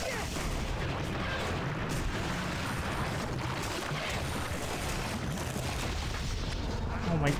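Gunfire and explosions from the Torchlight II action game roar in a dense, continuous barrage at steady loudness throughout, with no clear breaks between shots.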